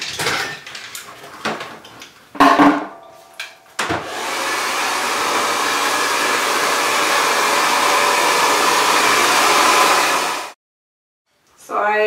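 Hair dryer blowing on a woman's short tapered haircut, a loud, steady whoosh running for several seconds before cutting off abruptly, with brief clatter and handling noises just before it starts.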